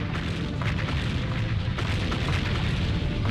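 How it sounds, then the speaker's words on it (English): Explosions in the video game Seek And Destroy rumble as a dense, continuous low booming wash of blasts, steady and moderately loud with no clear gaps. "I do like that the explosions and whatnot are not very loud."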